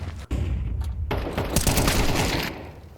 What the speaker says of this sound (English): Oh, what a headshot.